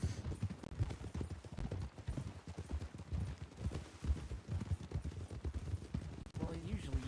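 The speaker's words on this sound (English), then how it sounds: "I like the new horse." Horse hooves clip-clop in a steady, brisk rhythm in Red Dead Redemption 2 (WildRP role-play), continuous and fairly close, with faint voices in the background.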